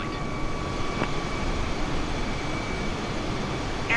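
Airbus A320 engine noise in Microsoft Flight Simulator 2020, a steady broad cabin roar with a faint engine whine, heard continuously at moderate level.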